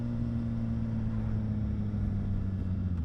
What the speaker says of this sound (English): rev matching on the downshift